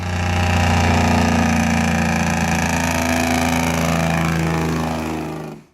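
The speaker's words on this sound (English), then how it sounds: "That loud, rattling machine gun sound? That's compressed air being blasted out the exhaust over and over." Heavy truck engine braking with a Jake brake, a loud, steady rattling exhaust roar sustained for several seconds before cutting off abruptly.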